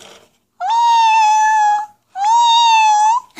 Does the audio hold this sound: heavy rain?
no